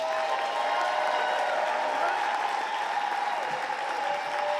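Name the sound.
audience applause for Chrissy Bunch at The Moth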